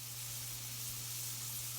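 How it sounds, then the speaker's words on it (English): Summer radishes simmer and sizzle in a pan of butter, a soft steady frying hiss with faint bubbling that runs unbroken and fairly quiet. "Simmering away, our beautiful summer radishes, enjoying their sizzling butter bath."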